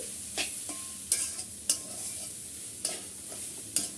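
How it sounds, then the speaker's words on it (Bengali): A spatula stirs bread roll filling seasoned with Maggi masala in a pan, knocking and scraping the metal in sharp separate strokes over a light sizzle. "ভালো করে নেড়ে চেড়ে মিক্স করে নিচ্ছি"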